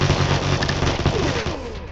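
Dense, continuous gunfire rattles in a multiplayer video game match, loud and overlapping bursts filling the scene with a thick wash of shots.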